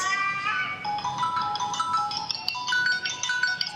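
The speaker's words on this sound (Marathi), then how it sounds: "कुणाचाच फोन आला" A phone ringtone for an incoming call plays a bright, repeating electronic melody of short tonal notes, loud and close, lasting for several seconds with no talk over it.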